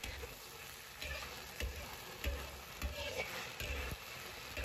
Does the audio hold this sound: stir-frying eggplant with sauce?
yes